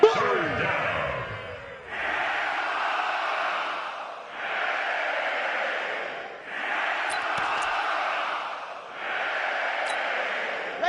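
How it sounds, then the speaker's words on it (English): Stadium crowd in an American football video game roars in repeated swelling waves ahead of a big third down, each surge lasting about two seconds with brief dips between, loud and broad with sharp clacks and shouts mixed in. "the crowd getting into it as we come up on a big third down"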